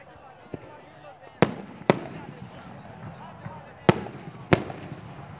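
Fireworks at Minar-e-Pakistan on Pakistan Day, several sharp loud bangs spaced a second or two apart over a crowd murmur and low background rumble.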